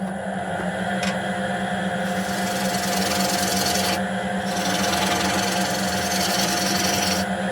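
Birch spinning on a wood lathe while a tool refines its shape and cuts a tenon for the chuck, giving a steady loud whirring hum with a scraping, rasping cut and brief lighter changes as the tool shifts, no talk.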